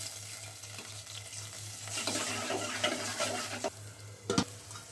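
Shrimp, small potatoes and stem greens stirred and fried in a pan with little oil, a steady sizzle under scraping stirs that grow busier midway, with a sharp clatter of a utensil near the end.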